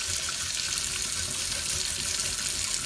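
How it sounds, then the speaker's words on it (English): Steady running tap water splashing onto a cast iron pan as it is scrubbed with soap, a continuous broadband rush close by with faint clatter underneath and no talking. "now I'm using soap to kind of get at the stuff that's really on there"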